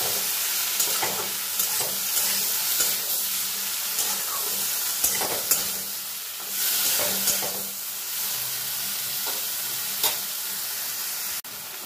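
Shrimp fry in hot oil in a pan with a loud, steady sizzle and occasional stirring scrapes, close and unbroken for several seconds.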